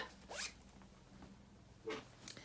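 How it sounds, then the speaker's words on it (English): A nylon zipper being pulled along a linen pouch, two quick crisp zips about a second and a half apart with a fainter third at the end, close and quiet with no voices. "nice crisp white one with a nylon zipper"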